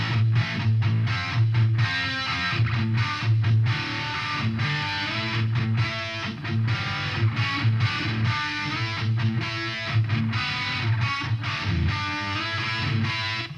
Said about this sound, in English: We've changed EQ, chorus, added delay, and changed reverb types in just a single footstep.